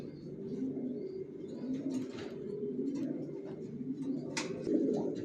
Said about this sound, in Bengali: একজোড়া পাইট রেসার দেখাচ্ছি অরিজিনাল পাইট পাইট রেসার দেখুন মাসাল্লাহ কিভাবে ডাকতেছে